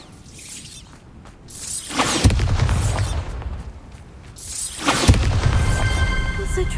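Bombarda spell explosions in the video game Hogwarts Legacy, two heavy booming blasts a few seconds apart, each with a crackling rumble trailing off afterward.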